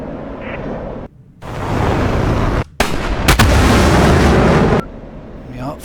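Missile launches from an F-16C in a flight combat video game come as loud roaring bursts with sharp onsets and brief gaps between them, close and dominant.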